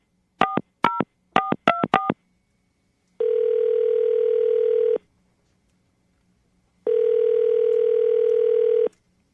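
A telephone call is being placed: a quick run of touch-tone dialing beeps, then two long, steady ringback tones separated by a pause, loud and clean with no voices.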